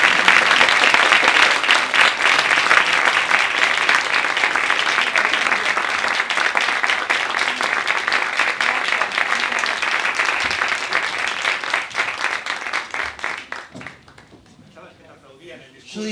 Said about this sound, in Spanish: de repente aplaudieron